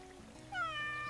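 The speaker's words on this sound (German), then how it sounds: "die Katze rennt mal wieder durch mein Beet" A cat meows once in the Garten Simulator gardening video game, a short, quiet, rising call heard alone near the end.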